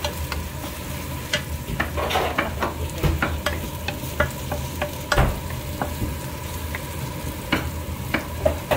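Onion frying in a pan, a loud continuous close sizzle broken by frequent scraping and clattering stirs of a utensil against the pan, with no voices.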